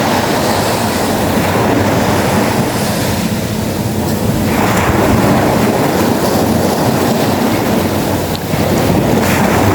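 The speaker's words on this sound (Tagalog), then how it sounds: "Sobrang lakas ng alon ng dagat" Loud, continuous roar of heavy surf crashing close by, mixed with strong wind buffeting the microphone, with no voices.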